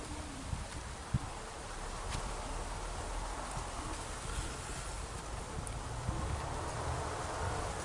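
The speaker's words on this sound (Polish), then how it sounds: "Proszę tu osy." Wasps buzzing around a beehive during a Varroa mite check after sublimator treatment, a steady, dense insect hum with rustling, continuous and fairly close throughout.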